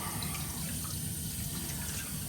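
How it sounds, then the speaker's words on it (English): Tap water runs steadily into a sink as a shaving brush is wetted beneath it, a continuous close splashing hiss with no voices. "I'll get my brush wet here"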